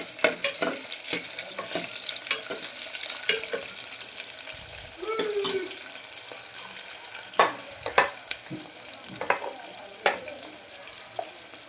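Biryani masala paste stirred in a frying pan for chicken biryani, a continuous sizzle with irregular scraping knocks of a spoon against the pan, close, with a brief low voice murmur midway.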